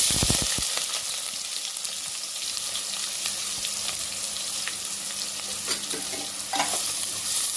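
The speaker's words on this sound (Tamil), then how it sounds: "கொஞ்சம் ஆயில் ஊற்றிக்கலாங்க தாளிப்பு கடுகு போட்டுக்கலாம் வெங்காயம் போட்டுக்கலாம்" Mustard seeds and onions sizzle in hot oil, a dense steady hiss close by with stirring scrapes and a few crackling pops scattered through it.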